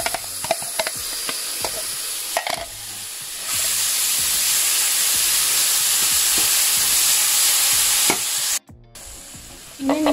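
Shallots, lemongrass and whole spices sautéing in hot oil for a Betawi beef stew, a steady close sizzle with occasional stirring scrapes, growing louder midway, then a sharp clatter near the end.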